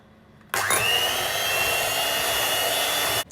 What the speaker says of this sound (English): Put in 4 tablespoons of milk and whisk it together.